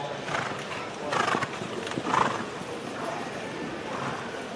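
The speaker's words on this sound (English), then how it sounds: "Big chunky stallion." A big, chunky stallion being shown at a breeders' showcase horse sale, with hooves clopping on the ground and a whinny, heard amid a noisy indoor crowd while people talk.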